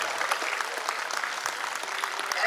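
An audience applauds steadily, a dense, even wash of many hands clapping at moderate volume with no pauses, heard from within the crowd, with no voices over it.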